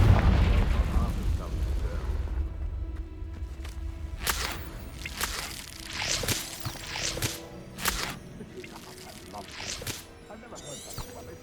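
Repeated blasting-curse explosions in the Hogwarts Legacy video game, a series of sharp booming bursts scattered through the stretch amid other game sounds, with a voice speaking between them.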